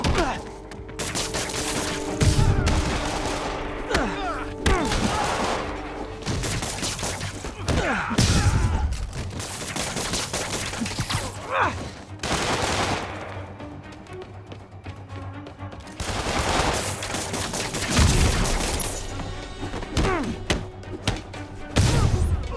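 Enemy gunfire in Marvel's Spider-Man, scattered loud shots and volleys mixed with thumps, crashes and impacts of combat, continuing in irregular bursts throughout the fight.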